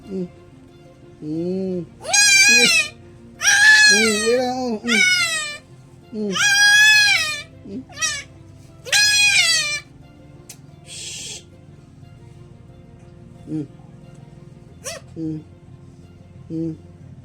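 Goats bleat repeatedly in wavering, nasal calls, several loud bleats in a row with pauses, while people talk quietly in Filipino in the background.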